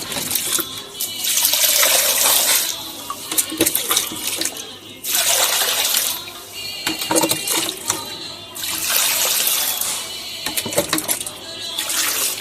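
Water is poured into a half bucket of liquid kitchen-waste compost in several separate splashing bursts with short pauses between, close and fairly loud, as a voice talks at times.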